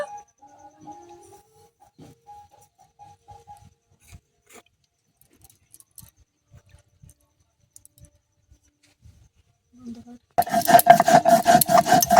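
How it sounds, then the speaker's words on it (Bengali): Poppy seeds being ground into a paste start with scattered light taps and clicks over near silence. Loud, rhythmic, close-up rasping and rubbing then takes over for the last two seconds. "সেই পোস্ত বেটে নেব"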